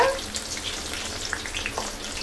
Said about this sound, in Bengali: হ্যাঁ, তেলটা গরম হয়ে গিয়েছে। এখন আমি সবগুলো পেঁয়াজ দিয়ে দিচ্ছি।